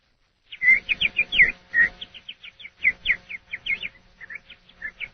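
A person whistles a rapid series of bird-like chirps and trills, imitating birdsong up close, with brief pauses between phrases.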